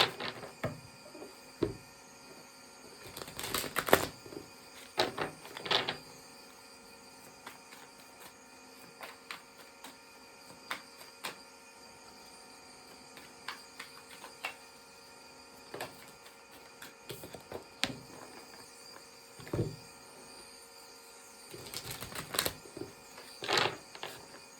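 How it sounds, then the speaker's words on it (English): Tarot cards laid out one by one on a table, giving soft, faint shuffling slaps and clicks in scattered bursts against a quiet background, with no talking. "I'll lay out all the cards and then we'll begin."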